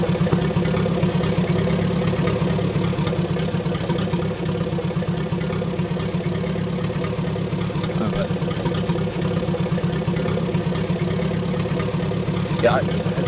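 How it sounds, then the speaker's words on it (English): Military vehicle engine idles in a video game, a steady low rumbling drone that continues unchanged and stays fairly loud throughout. "has it turned off the engine yet? Yeah, it's still going"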